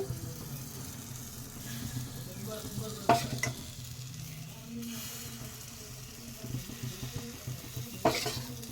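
Rice-flour pitha batter made with a little milk sizzles steadily in a pan, with a few brief clinks and scrapes of utensils cutting through the soft frying hiss.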